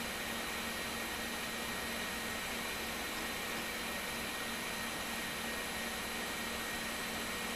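A Pentium Pro HP Vectra VA PC booting through its BIOS, heard as a constant loud fan rush and whir, broadband and steady, with no voices.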